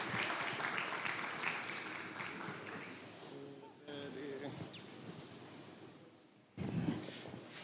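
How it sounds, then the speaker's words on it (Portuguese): An audience claps at a church event, a broad steady wash of applause that fades in the middle and swells again near the end, with a voice speaking over it. "uma salva de palmas"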